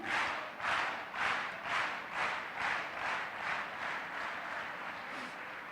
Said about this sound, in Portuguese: igreja toda, todos batem as palmas